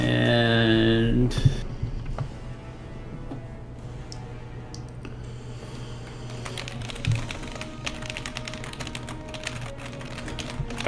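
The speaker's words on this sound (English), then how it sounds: "I hear furious typing." Fast, busy typing on a computer keyboard clatters steadily with dense clicks over background music, and no one talks.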